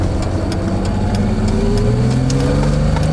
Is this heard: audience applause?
no